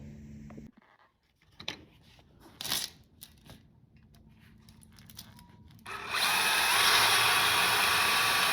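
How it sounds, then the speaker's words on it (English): Power drill whirring in short bursts while drilling out holes on a Chevy, then a sustained loud grinding drone toward the end, close by with no talking. "I'm just physically just drilling it out so I can have holes in there"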